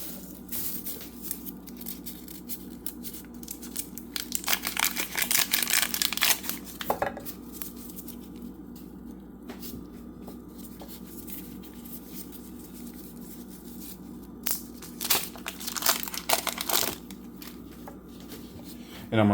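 A knife cuts a frozen stick of butter into small pieces in a kitchen, making repeated bursts of crisp scraping and chopping sounds close by, with short pauses between cuts.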